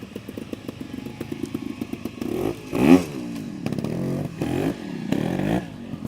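Trials motorcycle ridden by an expert through a course section at a club trials event, with a chugging low engine note, sharp throttle blips and revving bursts, clatter and scraping over obstacles, close and loud.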